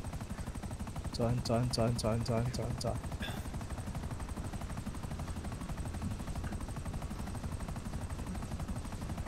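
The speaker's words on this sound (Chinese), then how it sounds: "你可以下直升机那哒，声音好吵哦" Helicopter in Grand Theft Auto V, a constant rapid rotor chop throughout with brief gunfire-like bursts early on, heard under a voice speaking.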